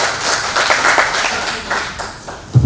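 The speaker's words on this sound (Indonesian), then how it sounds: "Mari kita berikan tepuk tangan yang terbaik bagi Bapak Yesus." A church congregation claps in a burst of applause, loud and close with an uneven rhythm, while voices are heard faintly underneath and a low thump comes near the end.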